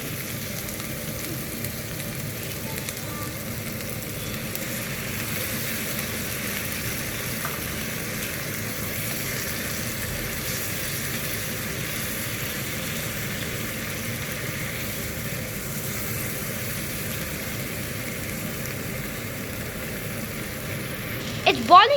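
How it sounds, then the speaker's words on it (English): Vegetarian lamb varuval with garam masala and added water bubbles and sizzles steadily in a pan, a continuous close cooking sound that runs evenly throughout. "It's boiling now, so we should add 1 teaspoon of salt."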